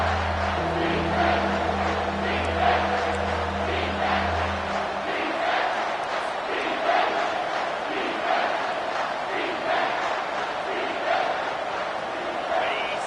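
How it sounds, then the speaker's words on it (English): A packed football stadium crowd roars behind the defense on a third down, a loud, sustained wall of cheering and shouting that swells steadily, with a low hum fading out early on. "Decibels rising as the crowd gets behind this defense on 3rd down."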